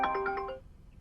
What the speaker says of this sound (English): sorry, phone was ringing